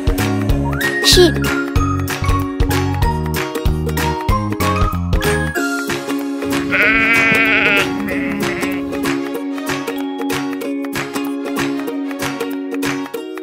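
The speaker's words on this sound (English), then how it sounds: "Sheep." A sheep bleats with a wavering call in the middle, set against a bright, jingly children's tune with chimes and bouncy notes throughout.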